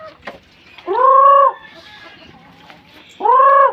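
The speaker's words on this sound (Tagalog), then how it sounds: "Yan tawag yung mga manok." Two loud, drawn-out chicken calls rise clearly a couple of seconds apart, with faint scattered clucks and farmyard noise in between.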